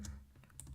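Short, quiet burst of keyboard typing on a computer while setting up an AWS cloud server in the web console, a few soft clicks over a low background hum.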